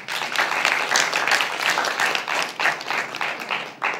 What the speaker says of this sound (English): Can we give Kes a big round of applause?